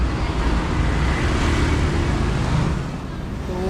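Dense street traffic on the roads of Canggu, Bali, a continuous roar of passing cars and scooters close by, with a slight dip in loudness near the end.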